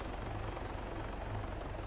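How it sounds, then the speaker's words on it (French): Helicopter in the military video game ArmA 3, a steady rotor rumble and whir filling the whole moment at a moderate distance, with no talk. "C'est qui cet hélico là"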